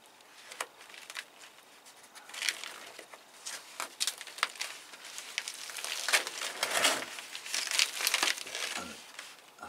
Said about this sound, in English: I'm going to have to cut this pot off